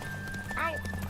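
A horse whinnies in The Witcher 3, a short rising-and-falling neigh over steady hoof clip-clop and game sounds, heard as a quick burst beneath a player's voice.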